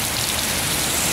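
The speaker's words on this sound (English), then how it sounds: "All that water that's running off the building right there and coming down through here" Rainwater runs off a building roof in steady, dense splashing of falling and running water, a continuous wash of rain-like noise with no pauses.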